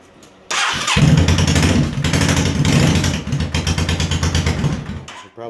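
2009 Yamaha V-Star Classic 650 motorcycle with a straight-piped exhaust and no baffles starting up, then idling loudly and unevenly with a rough, pulsing rumble close by.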